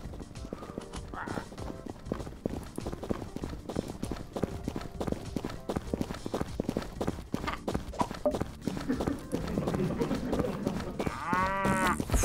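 Cows mooing on a farm in the video game Hello Neighbor 2, with repeated lowing calls over a busy layer of game sounds and footsteps, fairly loud and continuous.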